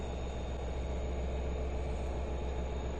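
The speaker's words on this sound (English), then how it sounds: "Again, this is South Fork Commuter Connection Shuttle Train" Long Island Rail Road commuter shuttle train idling at Speonk station, with a steady, even rumble and hiss continuing unchanged throughout, close by and without voices.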